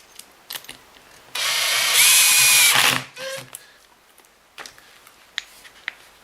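A power tool whirs for about a second and a half while driving screws back into a Kirby Avalir vacuum, then winds down. Small clicks and handling taps follow.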